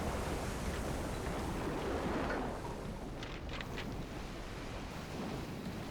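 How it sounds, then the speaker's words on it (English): A U-boat in Silent Hunter 3 slips beneath the waves, a dense, steady rush of churning water and low roaring noise filling the whole stretch, with a few faint higher hisses midway. "Sounds like we have slipped beneath the waves."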